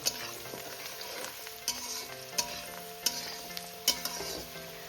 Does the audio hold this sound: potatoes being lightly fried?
yes